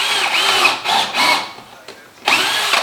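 A power drill drives a screw into wood at a miter station in an off-grid earthbag workshop, whirring loud and close in four bursts, the third very short.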